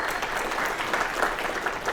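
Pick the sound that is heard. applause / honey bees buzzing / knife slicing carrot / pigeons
applause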